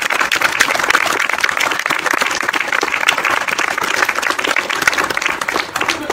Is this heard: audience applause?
yes